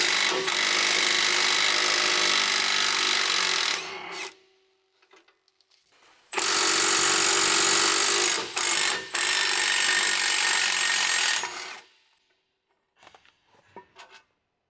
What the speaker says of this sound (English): Using the large 21 mm short socket with the large electric impact wrench, remove the brake caliper bracket retaining bolts.